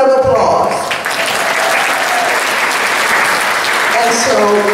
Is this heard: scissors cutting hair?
no